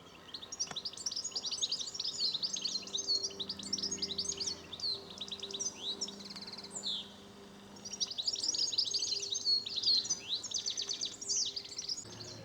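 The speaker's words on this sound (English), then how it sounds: "Lovely, wonderful little bird." A small bird sings from the top of a church, its bright twittering phrases repeating in two clear bursts over a quiet background of faint outdoor hum.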